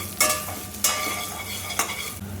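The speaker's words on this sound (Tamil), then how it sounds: "இந்த தேங்காய் துருவலையும் போட்டுக்கிறேன் போட்டுண்டு நேரமாக வறுத்துக்கலாம்" A spatula scrapes and stirs through grated coconut dry roasting in a pan, three distinct strokes over a low, steady sizzle.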